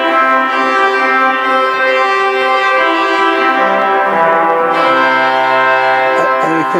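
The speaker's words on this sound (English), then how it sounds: "among the three nice big trumpets in this church." Sustained pipe organ trumpet stop sounding from the far end of St. Norbert Abbey church, a bright, steady, reedy chord held loud and full, shifting notes near the end, with no talk.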